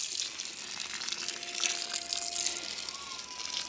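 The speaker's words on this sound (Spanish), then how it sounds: "procedemos a echarle agua" Water poured into a hollow in the center of a sand and mortar mix for construction, a steady gushing stream that sounds close and moderately loud, with no voices.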